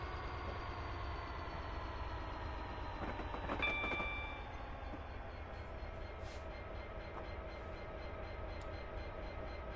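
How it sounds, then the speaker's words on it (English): Train sim run on the Settle to Carlisle line: a steady rumbling drive from the cab, with a continuous low engine and rail roar, a brief louder surge and high whine partway through, and no talk. "let's worry about driving our train"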